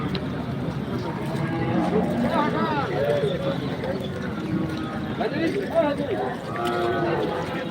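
Cattle at a muddy cattle market during rain, occasional moos and animal calls mixed into a busy crowd din, with several people talking close by.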